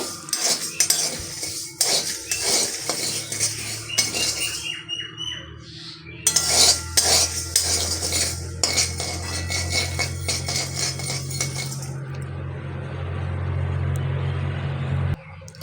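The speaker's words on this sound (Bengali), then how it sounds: "এই যে সাদা সর্ষে দিয়ে আমি একটু সময় নাড়াচাড়া করে নেব" White mustard seeds stirred in a pan with a pinch of salt, a utensil scraping and clinking against the metal in steady irregular strokes, with a low background hum throughout and no talk.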